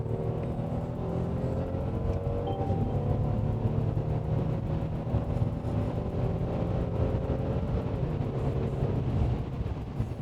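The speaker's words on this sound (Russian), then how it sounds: "Довольно тихо в салоне, но мотор очень приятно поет." A Mercedes E400 (W213 E-Class) engine hums low and steady from inside a quiet cabin, its pitch slowly rising and shifting as it runs, with no voices.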